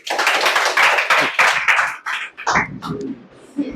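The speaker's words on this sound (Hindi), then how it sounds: "ताली बजा दी इसके लिए।" A short burst of clapping from a group at a 10th class quiz competition, steady and fairly loud for a couple of seconds, then thinning out into scattered claps and a brief voice.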